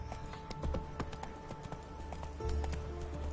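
In The Witcher 3 video game, a horse gallops with quick rhythmic hoofbeats at a steady pace, fairly faint against a low rumbling background.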